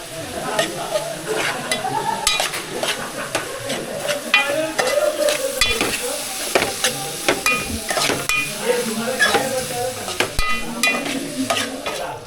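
Prawns sizzle and fry in a pot with red Kashmiri chilli while a spoon stirs them, the steady hiss broken by scraping strokes against the metal, close and loud.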